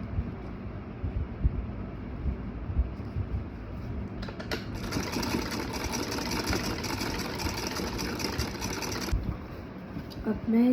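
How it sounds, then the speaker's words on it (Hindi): Electric sewing machine running steadily while stitching a small summer dress for a Laddu Gopal idol, a continuous mid-pitched whir with a faint rhythmic clatter that starts partway through and stops near the end. "अब मैं इसे सिलाई मारते जाऊंगी"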